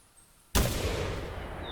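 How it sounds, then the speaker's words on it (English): A single sharp, loud gunshot aimed at a turkey in the hunting game theHunter 2017 cracks out of near silence, then rolls into a long sustained echoing boom that fades only slightly. "We're gonna take a shot"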